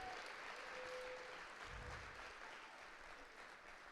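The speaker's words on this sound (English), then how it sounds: "So if we could give that group a round of applause for their efforts as well." A college awards-event audience applauds, a dense steady patter of many hands clapping at moderate distance, continuous and slowly tapering near the end.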